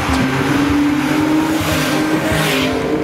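A Porsche 911 of the 991 generation, a test car, drives hard with a continuous engine drone and tire noise that stays loud throughout, with no voices.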